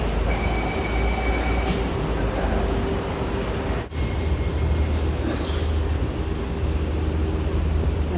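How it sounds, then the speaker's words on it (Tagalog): A train pulling into a station on the way toward Marina Bay in Singapore, a steady loud low rumble of rolling rail cars with faint wheel noise, continuous throughout with no talking. "Nandito na yung train."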